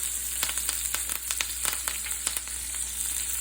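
A flounder fillet fries in a pan with butter and fresh thyme sprigs, giving a steady soft sizzle dotted with small popping crackles, fairly quiet and close, with no talking.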